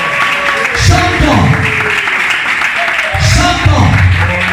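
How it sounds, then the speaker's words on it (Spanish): A church congregation claps loudly in two sustained bursts, with music and cheering voices mixed in. "Den un aplauso a ese Rey de gloria."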